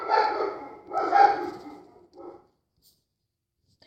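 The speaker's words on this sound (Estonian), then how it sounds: "et see koer nii palju augub." A dog in the Minecraft video game barks in two close yaps followed by a softer third, fairly loud and alone, then silence.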